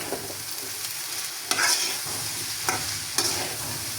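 Pasta seasoned with salt and a teaspoon of sugar cooking in a pan, with a low sizzle and three or four crisp spatula scrapes against the pan, close and fairly quiet.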